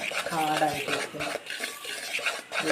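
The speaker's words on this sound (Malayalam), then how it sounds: "അതുകൊണ്ട് നന്നായിട്ട് മിക്സ് ചെയ്യണം ഡ്രൈ ഇൻഗ്രീഡിയൻസ്." Dry cake ingredients being mixed in a bowl, a close, steady scraping and stirring that runs throughout, with a brief voice heard near the start.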